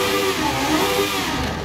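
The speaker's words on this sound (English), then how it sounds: "It actually sounds like an F1 car." A racing V12 swapped into a Hot Wheels Bad To The Blade drift car in Forza Horizon 5 holds a loud, steady high-pitched rev, revving toward 12,000 RPM with a dense, continuous engine whine.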